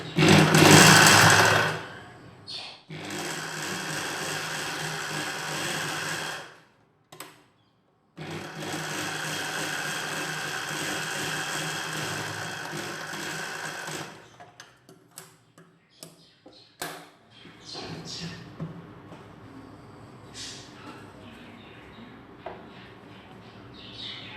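A sewing machine stitches a nightie seam in close, rapid bursts of mechanical whirring, two long runs separated by a pause, followed by scattered clicks and short taps as the fabric is adjusted, with no talking.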